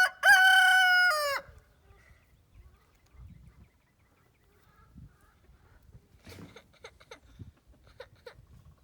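A rooster crows once, loud and close, with a long harmonic call in the opening second and a half. Quieter scuffles and faint background noises follow, and a brief knock is heard near the end.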